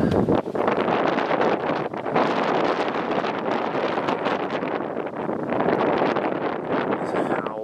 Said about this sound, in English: It's actually gone a bit less windy.